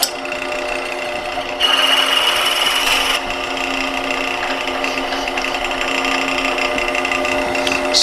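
A wood lathe drives a drill bit into a turned wooden lamp part held by the tailstock, giving a steady, close whirring grind that swells briefly louder early on before settling.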